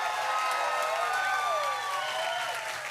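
A church congregation bursts into sustained applause and cheering for the moms, a dense wash of clapping with whoops rising over it, steady and full throughout.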